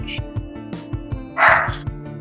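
A dog barks in a run of short, loud woofs over steady background music and game sounds during an online raid, with one longer bark standing out near the end.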